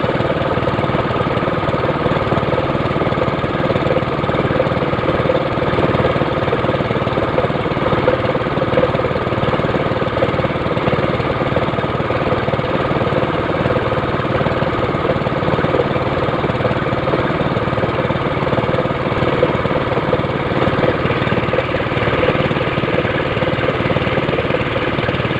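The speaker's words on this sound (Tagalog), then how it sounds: "Dadaan tayo guys sa bangka ni Cheminda guys." A motorboat engine runs steadily and loudly on a river the whole time, a constant mid-pitched drone with a slight rattling knock and no pauses.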